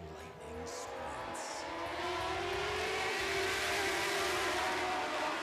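Lightning sprint race cars roar around the track in a heat race, a continuous, distant engine drone that swells gradually louder, with no voices over it.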